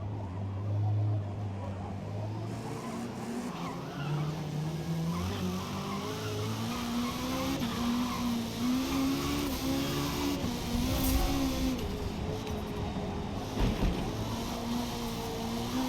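A four-cylinder Honda Prelude race car engine in the Forza racing game revs and shifts through rising and falling pitches, with tire skids, loud and continuous, and a voice talks over parts of it.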